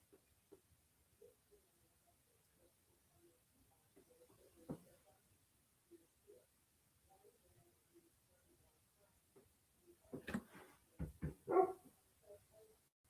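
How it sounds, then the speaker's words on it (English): A dog barks in a short burst of several loud, close barks late in the night, following a long stretch of quiet rustling and faint scattered knocks around a fenced house. "Now the dog's barking."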